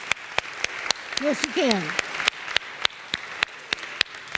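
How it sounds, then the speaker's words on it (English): Single person clapping in a church: sharp, evenly spaced hand claps in a steady rhythm, close and distinct, with a voice speaking briefly at the start. "I'm clapping for y'all."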